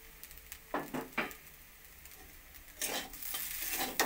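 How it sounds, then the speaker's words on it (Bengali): Homemade chow mein with vegetables and scrambled egg stirred in a frying pan, with a spatula scraping in a few bursts over a gentle sizzle that grows stronger toward the end, close up, no voices. "ডিমের ভুজিয়াটা দিয়ে মিশিয়ে নেব।"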